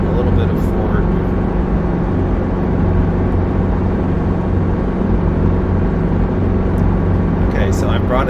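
Schweizer S300 CBi helicopter lifting into a high hover, a loud steady engine and rotor drone with continuous low-frequency beat, heard close from inside the cabin.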